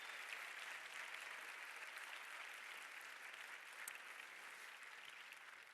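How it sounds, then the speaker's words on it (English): An audience at a film award event applauds the makers of a film, with continuous, even clapping from a large crowd, fairly distant and sustained throughout. "A big round of applause for them as well."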